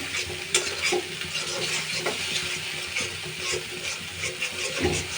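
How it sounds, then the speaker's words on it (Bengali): Bengali spice paste for a fish bhuna stir-fried in a pan, a close, steady sizzle with repeated scraping strokes of a spoon through the masala. "মশলাটা ভালো করে কষিয়ে নিচ্ছি"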